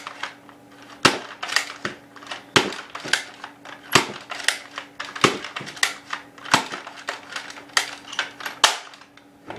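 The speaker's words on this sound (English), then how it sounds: "just show you the test fire of it" A modified Nerf Longshot Maverick blaster is test fired, giving sharp, close snapping shots at an irregular, fairly rapid pace over a soft background hum, with no talk.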